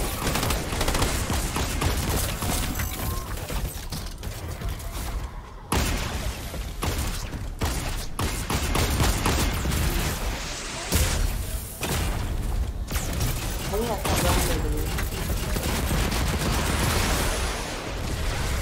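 Gunfire in a video game, loud dense bursts of rapid shots with mechanical clatter and booms running almost continuously.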